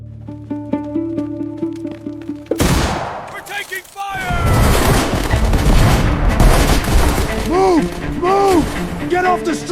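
Loud battle effects of artillery fire and gunfire around Jerusalem: a sudden heavy boom breaks in after a musical passage, then dense rumbling fusillades and explosions continue with whistling sounds, under narration.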